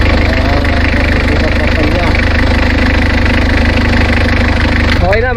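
A diesel engine runs close and loud after a fuel filter replacement, idling with a steady, rapid knocking chug throughout, and someone talks over it.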